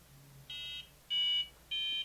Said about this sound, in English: you may have heard him beep 3 times